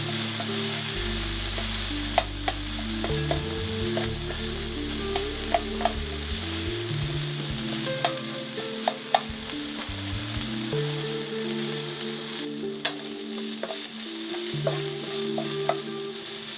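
Sausages fry in a pan for biscuits and gravy, a steady loud sizzle running throughout with occasional clicks and scrapes of stirring, no voices.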